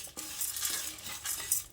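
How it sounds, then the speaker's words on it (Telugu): Lentils, coriander seeds and cumin dry-roast in a pan, with soft repeated scraping and light clinks of a spoon stirring over a faint sizzle, close by and quiet. "దీన్ని కొద్దిగా మంచిగా గోల్డెన్ కలర్లో వచ్చేటట్లు వేయించుకుందాం."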